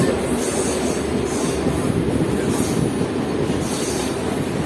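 Local train running on the rails on the Dankuni to Barrackpore line near Bally Halt, a steady, loud rumble of wheels and carriage noise with faint rhythmic clatter throughout.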